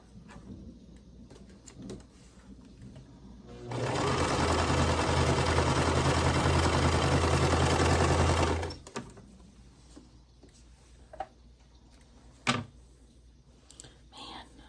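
Sewing machine stitching borders and sashing onto a quilt block, a loud steady whir running for about five seconds mid-clip between quieter stretches of room noise.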